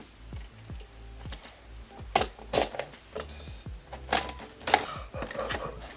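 A knife slices through a pink cardboard package box outdoors in bright daylight, giving a series of sharp scraping cuts and rustles that build in intensity over several seconds, with no speech.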